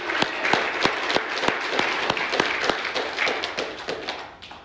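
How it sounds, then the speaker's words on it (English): Audience applause rings out for a person asked to stand, steady dense clapping from a crowd with sharp individual claps, close and fairly loud throughout without talk. "Just give this guy a round of applause."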